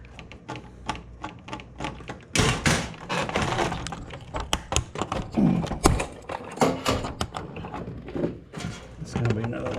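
A heat sink being pried off a scrapped circuit board, with a run of sharp clicks, scraping and metallic clatters in irregular bursts, some loud, while a person talks.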